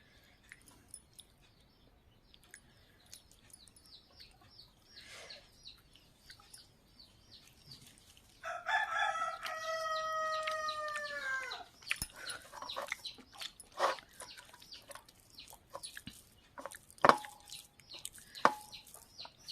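Backyard hens and a rooster by an outdoor lunch spot: a single loud crow rises midway, surrounded by scattered quiet clucks and pecking taps, with no talking.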